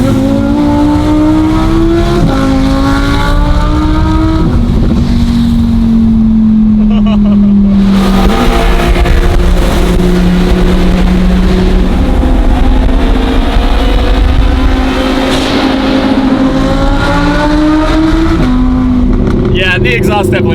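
An Audi R8 fitted with a full titanium race exhaust blasts loud and close, revving up and down in repeated surges with gear-change dips and crackles, while people talk and cheer over it.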